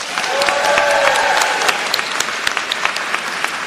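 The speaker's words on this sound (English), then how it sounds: "Let's have another round of applause for these phenomenal students and their amazing work" An audience at an undergraduate commencement ceremony claps, a loud, dense round of applause that swells and then thins into scattered claps.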